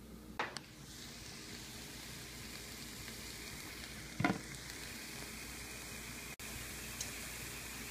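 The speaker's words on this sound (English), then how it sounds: "get that ground turkey into a big skillet and get it browning" Ground turkey browns in a big skillet with a steady, faint sizzle running throughout, broken by a few soft scraping stirs near the start and middle.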